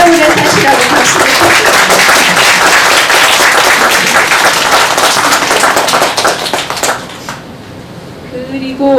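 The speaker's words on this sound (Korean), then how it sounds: "오래오래 사시라고 박수를" An audience at an essay contest award ceremony claps loudly and continuously for about seven seconds. The applause then breaks off abruptly into near quiet.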